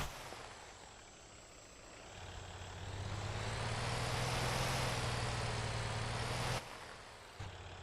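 A semi truck engine idling in the video game Motor Town, a low, steady diesel rumble with a hissing wash on top that swells in the middle and then drops away abruptly near the end.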